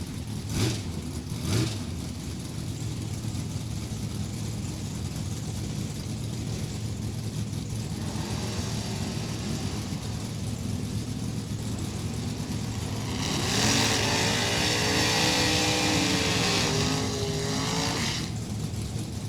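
Drag racing cars, a Camaro and a Chevy, at the JEGS Sportsnationals: a steady engine roar runs throughout, with a brief sharp burst near the start and a louder, rising rev swelling in the last few seconds.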